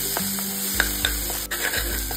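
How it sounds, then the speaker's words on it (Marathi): Green masala paste sizzling steadily as it is sautéed in hot oil for a green pea curry, with the scrape and clink of a spoon stirring the pan close by. "आता हे वाटण ना तेलावरती अगदी मस्त असं परतून घेऊया।"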